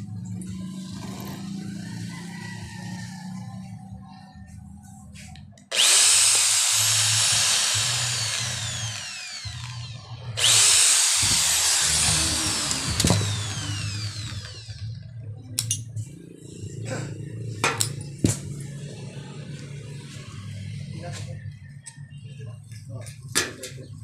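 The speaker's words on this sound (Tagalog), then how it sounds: "Tasan natin ulit ng 1/8 drill bit." A 1/8 inch drill bit bores into an aluminum rectangular tube, two loud sustained whining bursts of several seconds each, with quieter workshop handling noises and clicks between and after them.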